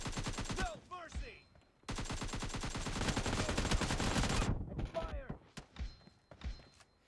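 Rapid automatic gunfire in a video game rattles out in a sustained burst lasting a couple of seconds, loud and close, with voices talking before and after it.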